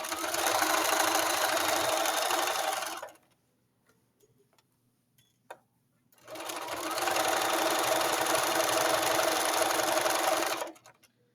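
Sewing machine stitching a short legs U seam runs in two steady bursts of rapid ticking about three and four seconds long, separated by a quiet pause with faint handling clicks.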